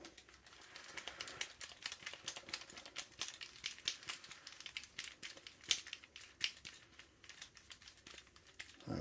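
Small screw being backed out with a T10 driver during disassembly of a KWA Scarlet airsoft pistol, giving rapid, close, dry clicks and ticks that repeat steadily throughout with no talking.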